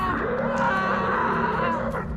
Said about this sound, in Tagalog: Kasunod ng malakas na sigaw ng isang lalaki.